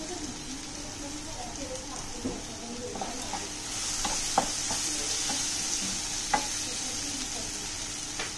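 Bitter gourd (karela) roasting in a pan, a soft steady sizzle with a few light stirring clicks and taps scattered across the clip, fairly quiet and close.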